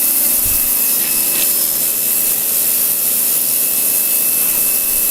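Pressure washer with its hose attached, left standing unused for a year, running loud and steady as a continuous broadband roar with a constant mechanical hum.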